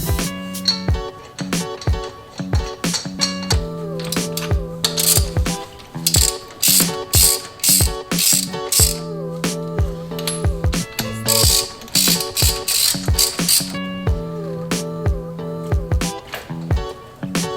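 Ratchet wrench clicking in quick repeated bursts while bolting a fender flare onto a Toyota Camry, loud and close, with brief pauses between runs of ratcheting strokes.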